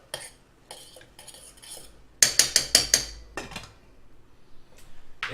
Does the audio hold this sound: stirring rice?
yes